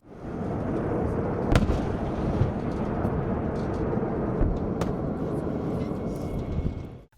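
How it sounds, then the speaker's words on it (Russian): Grad multiple rocket launchers fire during a military exercise, a loud sustained roaring rush with a couple of sharp cracks standing out, heard from a distance without talk. "по которому был нанесен удар реактивными системами залпового огня «Град»"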